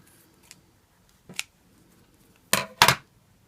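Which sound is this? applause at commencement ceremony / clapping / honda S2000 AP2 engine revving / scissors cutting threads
scissors cutting threads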